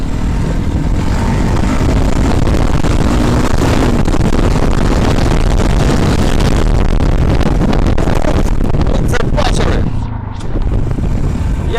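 A Loncin 250 Ralli motorcycle ridden hard through a forest, its engine loud and close, revving and straining continuously with throttle surges and a brief dip near the end.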